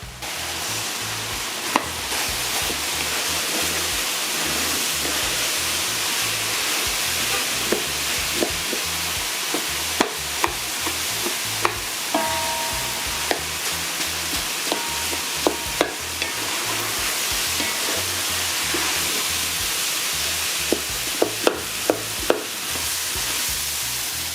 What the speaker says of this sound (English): I'm adding the washed rice